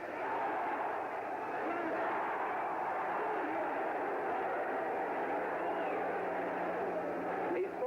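A huge crowd at the Muhammad Ali versus George Foreman boxing match keeps up a constant roar for several seconds, thick and unbroken, swelling slightly at the very end.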